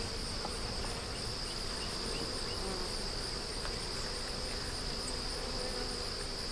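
Honey bees hum and buzz steadily around hive boxes, a dense, continuous insect drone with a high whine layered over it and no voices.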